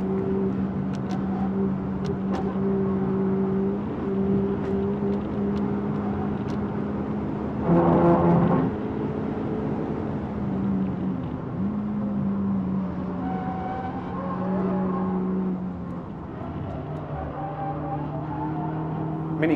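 A Honda Civic Type R FL5 engine drones steadily at speed during a Nürburgring lap, with a sustained in-car tone that shifts pitch through gear changes and a brief louder surge midway.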